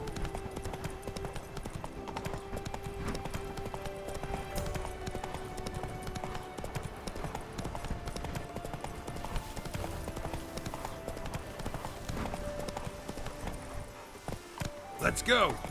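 Roach the horse galloping in The Witcher 3, rapid rhythmic hoofbeats drumming steadily throughout, close and fairly loud under game music and ambient sound.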